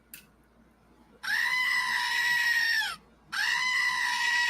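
Goat scream sound effect played on a livestream: two loud, drawn-out bleating screams, each lasting well over a second with a short gap between, standing clear over a faint background.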